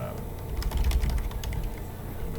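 Keys clatter on a computer keyboard in quick, uneven bursts of light clicks, close to the microphone under a low background hum, with talk around it.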